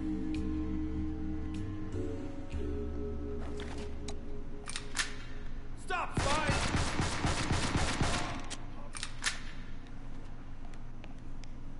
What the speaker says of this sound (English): There's a rocket launcher guy shooting at you.